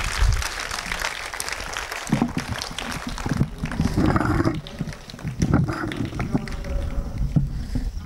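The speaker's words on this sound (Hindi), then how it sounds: "जोरदार तालियों से स्वागत।" Students at a school assembly clap loudly to welcome a chemistry teacher to the stage. The clapping is rough and uneven, with heavier bursts and some crowd noise mixed in, lasting about eight seconds.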